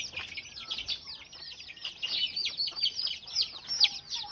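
Local village fowl on vaccination day against fowl pox, a chorus of high chirping and clucking calls repeating rapidly and overlapping throughout, close and fairly loud with no talk.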